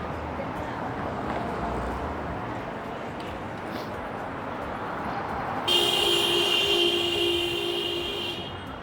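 A car horn blares loudly in a busy downtown Toronto street, a single sustained honk over the steady rumble of traffic near the end.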